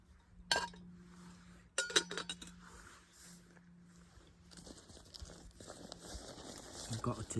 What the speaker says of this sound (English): I've got a titanium spoon.